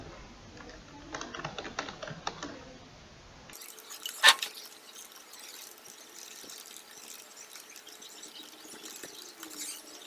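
Fingers tap on a computer keyboard while typing a document in Microsoft Word, producing quiet, rapid, uneven clicks at close range with an occasional louder key strike.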